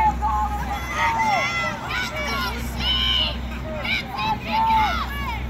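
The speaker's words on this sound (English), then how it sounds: "See all these people cheering for you." Crowd at a decathlon 1500 m race yelling and cheering in a steady wash of voices, with rising and falling shouts and whoops standing out over the constant murmur.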